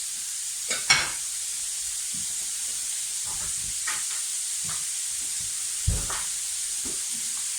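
Meat browns in a frying pan for cottage pie, a soft steady hiss of frying broken by a few sharp pops and clinks of a utensil against the pan, with no one talking.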